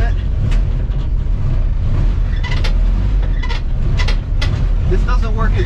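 A Jeep stuck off-road, rocking in first gear to break free, its engine and drivetrain a loud, continuous low rumble with surges of wheel spin and scattered knocks throughout.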